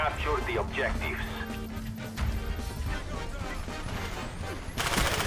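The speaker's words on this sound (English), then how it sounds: "We'll try the MP5K rapid fire." Rapid bursts of MP5K submachine-gun fire ring out in a Black Ops 1 multiplayer match on the Havana map, sharp crackling shots mixed with game noise and a crash near the end, while a player talks over it.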